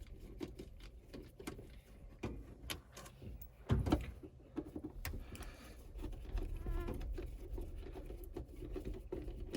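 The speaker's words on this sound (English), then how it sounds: "the gnats are rough today." Gnats buzz close around the ears outdoors while someone works on a dump truck, a thin, wavering insect whine that flits in and out over soft rustling, pattering and handling noises.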